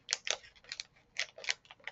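Scissors snip open a plastic candy wrapper of Pokemon fruit Ramune candy, giving a quick run of sharp, crisp close-up cuts in an irregular rhythm with brief crinkles between them.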